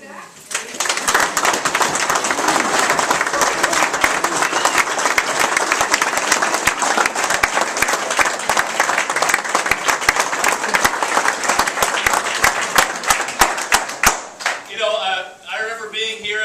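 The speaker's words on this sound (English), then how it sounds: "I want to get you all to give a round of applause for our leader, Hudak" A packed hall in Lindsay, Ontario breaks into a long, loud round of applause and clapping for party leader Hudak, dense and sustained for about fourteen seconds before a voice begins talking over the fading claps.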